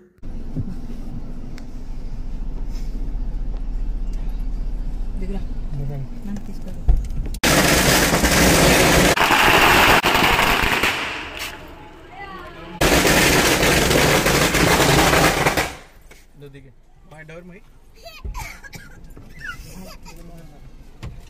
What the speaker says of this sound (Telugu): సో మా వాళ్ళు అయితే బాంబులు అయితే పెట్టారనమాట